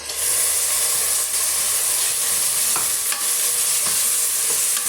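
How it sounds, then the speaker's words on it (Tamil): Tomato paste for chicken gravy sizzles and bubbles steadily in a hot pan, a loud close hiss with occasional stirring scrapes and pops, no talking. "இப்போ இந்த தக்காளி பழமும் ஓரளவுக்கு நல்லா வதங்கி வரட்டுங்க"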